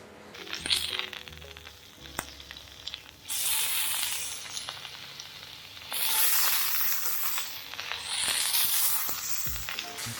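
A sous vide pork loin searing in a hot pan gives a steady close sizzle that swells into loud hissing bursts, with a few crackles and clinks and no talking.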